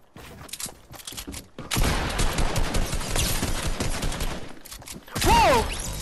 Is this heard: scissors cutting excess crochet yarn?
no